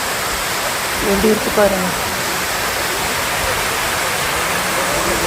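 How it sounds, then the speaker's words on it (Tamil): The Masilamani waterfall roars as a loud, steady, broad wash of falling water from close by, with a short spoken remark over it near the start. "இதுதான் மாசிலா மணி ஃபால்ஸ்"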